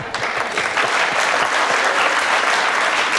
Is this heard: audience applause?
yes